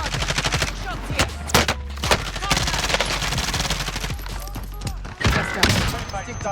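Rapid bursts of automatic gunfire from a Call of Duty Warzone match, loud and close, with sharp individual shots and clattering volleys spread over several seconds, sometimes pausing between bursts.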